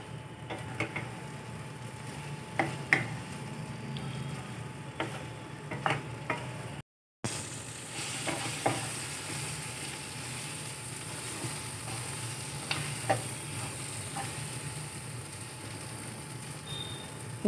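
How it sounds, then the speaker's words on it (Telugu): Stuffed ivy gourd curry fries in a pan with a soft, continuous sizzle, broken by occasional light ticks and scrapes of stirring. After a brief gap the frying carries on at the same gentle, close level, with no talking. "కాకపోతే ఒక 10 నిమిషాలు అలా వేపుకుంటా ఉండాలండి మధ్యలో"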